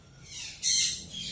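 A blue and gold macaw parrot gives a brief, shrill, high-pitched vocal call up close, a rising screechy note lasting under a second.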